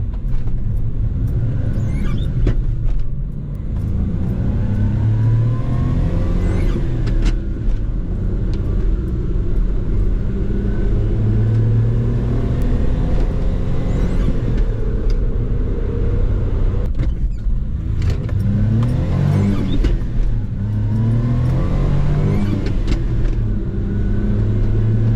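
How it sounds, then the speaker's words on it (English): A Suzuki Carry DC51T mini truck on a test drive after a transmission fluid change, its small engine rumbling steadily with repeated revving and gear changes, heard up close from inside the cab. "Giving it a little test drive here after I changed the transmission fluid."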